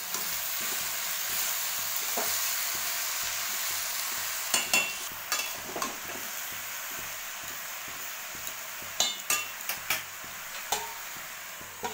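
Pui shak greens with salt fry in a pan under a steady low sizzle, later joined by clusters of sharp spatula clicks and scrapes as they are stirred, close-up with no voices.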